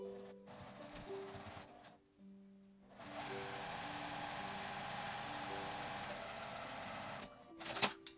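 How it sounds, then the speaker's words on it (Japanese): A sewing machine stitches the bottom seam of a thin-fabric drawstring bag with a 5 mm seam allowance, a quiet rapid mechanical whir in short bursts, pausing briefly between runs. "底を5ミリの縫い代で縫います。"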